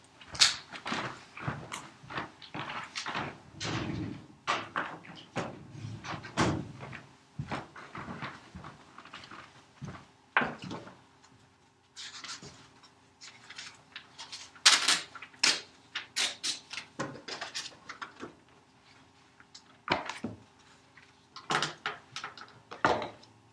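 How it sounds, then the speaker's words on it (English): Students in a classroom tear pages out of their workbooks. Scattered ripping and rustling bursts come in quick irregular clusters, fairly close and moderately quiet, with short pauses between them. "if you guys can tear out page 265 in your workbooks"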